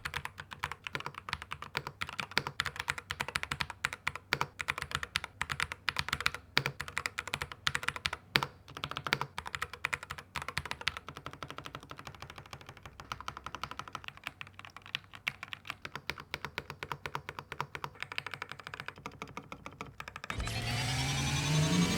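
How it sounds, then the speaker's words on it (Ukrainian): Rapid, continuous clicking of keys on a HATOR Gravity TKL mechanical keyboard during a typing test, close and crisp, fast typing bursts that stop near the end before a brief different noise. "Що ви власне і зможете зараз зацінити, тому що ми робимо тайпінг-тест"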